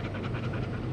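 Dog panting inside a Chevrolet ZR2 AEV Bison on an off-road overlanding trail in Florida, quick steady breaths close up over a constant low vehicle rumble, with no talk.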